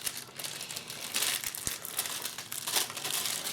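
Plastic packaging around a Yongnuo N1 cable is opened by hand. It gives close, continuous crinkling and crumpling, with a sharp tap partway through and no talk.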